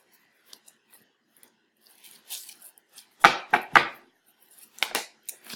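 Tarot cards shuffled by hand, a few faint taps followed by several sharp riffling bursts close by, with two strong swishes in the middle and a final flurry near the end, no talking.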